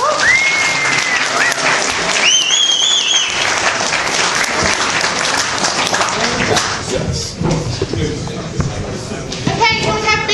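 An audience at a pitch-ideas session applauds loudly and continuously for about ten seconds, a dense roar of clapping hands with a few whoops and voices rising over it.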